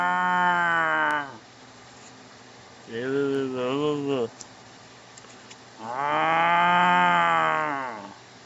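A person imitates a cow, giving three long, drawn-out moo-like calls separated by pauses, close and loud.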